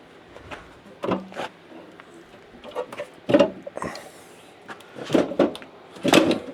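Freshly oiled sliding steps on an older camper are pushed in and out, producing several short sliding and knocking bursts in an irregular rhythm, close by, with no talk.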